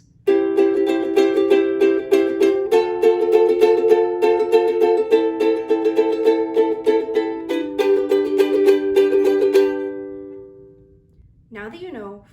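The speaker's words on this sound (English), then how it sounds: "Now, if you take that strumming pattern a little faster," Ukulele strummed in a quicker pattern, bright chords ringing steadily and close for about ten seconds with several chord changes, then fading out, followed by a brief voice at the end.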